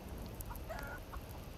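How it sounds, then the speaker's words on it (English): A chicken in the medieval farming game Medieval Dynasty gives a few faint, soft clucks over a steady rain-like background hiss, with no talking. "Ah, chicken, you're supposed to be asleep."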